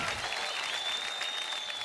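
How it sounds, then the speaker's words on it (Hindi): Applause from a studio audience on a Hindi TV talent show after a musical duet, a continuous wash of clapping heard at a distance and fairly soft, with no clear talk over it. "जोरदार तालियां जबरदस्त जुगलबंदी के लिए यार"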